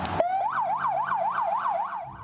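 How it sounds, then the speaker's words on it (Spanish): An ambulance siren wails in a steady rising-and-falling cycle, loud and close, starting after a brief burst of noise. "Parece una ambulancia que trata de salvar una vida."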